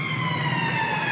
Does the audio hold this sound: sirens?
yes